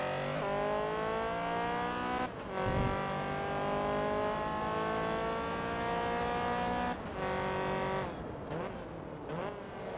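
A Honda Civic racing in Forza Motorsport 2 gives a loud, raspy, high-revving engine drone that rises and falls through gear shifts, with brief dips between gears and no talking.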